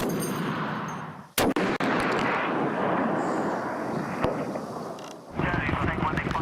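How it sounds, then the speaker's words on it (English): Heavy machine gun and sniper fire during a combat engagement, heard as a few sharp loud shots and a brief burst within a continuous roar of battle noise, with a voice speaking over it. "immediately try to suppress them with heavy machine guns and sniper fire."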